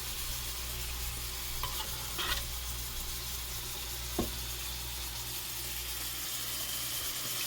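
Stuffed cabbage rolls brown in a frying pan, giving a quiet, steady sizzle of oil with a couple of soft clinks of a utensil, heard alone.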